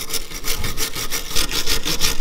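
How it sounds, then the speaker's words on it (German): Threads on an Audi A3 8L tie rod scrubbed clean, probably with a wire brush, producing quick rhythmic rasping back-and-forth strokes, close and loud with no talking. "Und machen erstmal das Gewinde etwas sauber von der Spurstange."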